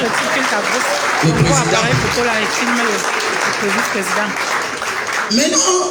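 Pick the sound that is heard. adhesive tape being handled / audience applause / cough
audience applause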